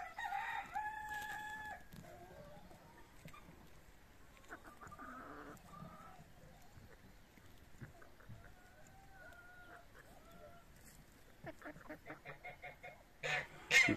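Young Padovana hens and a rooster in a henhouse, with faint clucking, a few crows and scattered bird calls at low level, plus occasional movement noise and a louder burst at the end.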